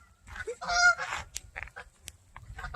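Several geese honk loudly in quick, overlapping calls, close by, with a few sharper single honks following after a brief lull.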